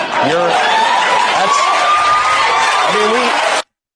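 A studio audience on Jimmy Kimmel's talk show cheering and whooping loudly, a dense sustained roar of crowd voices that cuts off abruptly.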